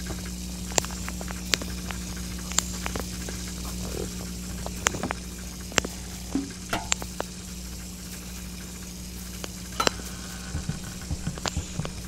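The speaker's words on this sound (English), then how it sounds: "So you want to turn on the sink and the stove." In the Hello Neighbor video game, a switched-on stove and running sink give a steady low hum and sizzling wash, dotted with sharp clicks and small knocks, with no talking.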